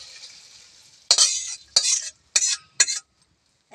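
Fish and tomato curry stirred in a pan: a faint sizzle, then four loud, close scraping strokes of a spoon across the pan, each a short, harsh burst with brief pauses between.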